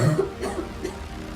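A person who feels sick coughs a few times in close succession. The coughs are short and husky and sound near and fairly quiet, with no talking over them.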